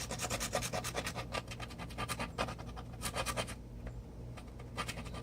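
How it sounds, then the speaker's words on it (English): A hand file scraping over a 3D print to clean up fine detail: quick, rhythmic rasping strokes in bursts, close and fairly quiet, with no voices. "So I'll go back in with my files also to clean it up."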